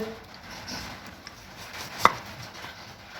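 A knife slices small onions with soft, faint cuts and one sharper chop on the board partway through, quiet and close with no talk.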